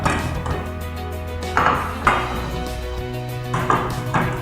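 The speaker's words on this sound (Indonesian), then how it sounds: "Saya akan mengambil piring nomor 1" Ceramic plates lifted one after another from a table while sampling tableware, giving several sharp clinks and knocks at an uneven pace, up close and moderately loud, with no talking.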